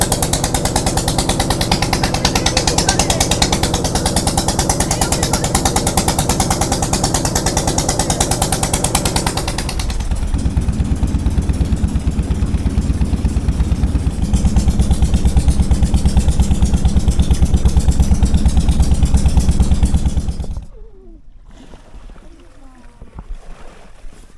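A motor boat engine clatters loudly and continuously as the boat moves through mangrove forest, a harsh, steady rumble that drops away abruptly near the end, leaving quiet surroundings.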